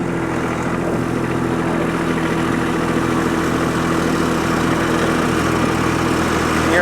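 Compact tractor with a front end loader grading dirt, its engine running at a steady loud drone throughout with constant low rumble and no talk.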